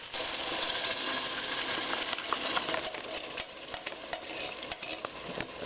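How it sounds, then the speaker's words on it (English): Sausages with onions sizzle in a pan as sauce is poured in, giving a faint, steady frying hiss broken by small clinks and stirring scrapes. "I'm just about to add the sauce to the pan."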